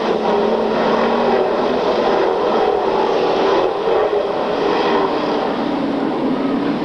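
Race cars roaring around a racing track late in a race, a loud, continuous engine drone that swells and shifts in pitch as the pack passes, with no voices.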